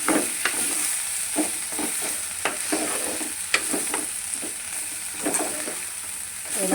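Bitter gourd curry being stirred in a frying pan, a steady sizzle broken by repeated scraping strokes of a spoon against the pan, close up with no voices.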